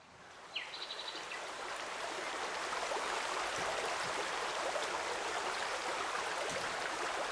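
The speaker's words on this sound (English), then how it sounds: "you can hear the waterfalls basically anywhere here, and it's stereo sound" Waterfalls in a video game rush as a steady, wide ambient roar that swells in after a brief chirp at the start and then holds constant.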